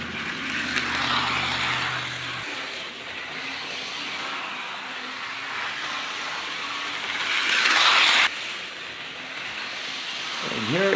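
A Tyco GP20 model train locomotive in Chattanooga livery runs along its track with a steady, close whirring motor rumble and a brief louder swell near the end.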